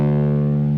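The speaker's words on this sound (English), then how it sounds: "on bass, we have distortion on the Sans Amp channel just to give that a little bit more grit" Sustained bass guitar note driven through a Sans Amp channel with distortion for added grit, a thick, steady harmonic-rich tone held without a break, loud and alone.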